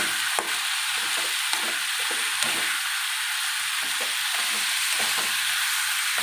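Chutney ingredients for chow chow, ridge gourd and beetroot sauteing in a pan make a steady, loud sizzle throughout, with irregular soft scrapes of stirring breaking through.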